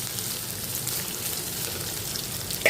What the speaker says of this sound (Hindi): और प्याज को इस तरह से चला करके भूनेंगे।